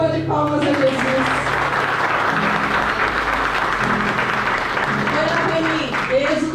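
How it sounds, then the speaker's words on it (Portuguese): Congregation at an Easter church service applauds, loud continuous clapping in a reverberant room with voices and cheering woven through it. "Dê uma salva de palmas a Jesus."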